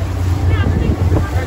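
An open water taxi heading to Toronto's Centre Island, close engine drone and wind buffeting the microphone with water rushing past, a short steady burst of boat noise.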